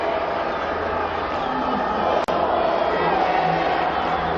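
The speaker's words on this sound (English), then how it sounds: "The crowd trying to get involved and to spur on the ladies." Stadium crowd at a women's international football match, Banyana Banyana against DRC, a steady dense roar of fans cheering and shouting under a commentator's voice.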